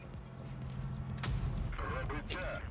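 A tank cannon firing in the mobile game World of Tanks Blitz, a single heavy boom around the middle with a rumbling tail over game noise and engine drone, followed by fainter clanks and effects.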